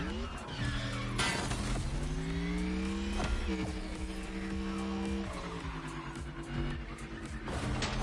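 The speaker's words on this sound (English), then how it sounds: "Kind of sounds cool too for an electric car." A synthetic electric car engine whine in the video game The Crew Motorfest, from an Autogeist car, rising and falling in pitch as the vehicle accelerates, with tire and road noise underneath.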